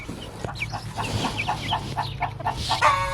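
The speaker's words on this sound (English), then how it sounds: "now it's time to go feed the chickens" Backyard chickens cluck and chatter at feeding time in a close, busy flock, with short rhythmic clucks and a brief crow-like call near the end.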